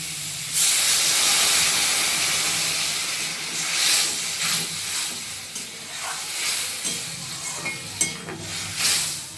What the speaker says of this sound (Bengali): ভাজা ভাজা হয়ে গেছে, এবারে জল দিয়ে দিই।